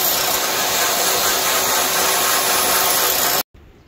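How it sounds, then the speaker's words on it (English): Harsh continuous rasping of sanding on small freshly cut wood pieces with sharp edges, steady and loud for a few seconds before stopping abruptly into quiet room noise. "I cheat sometimes by sanding them"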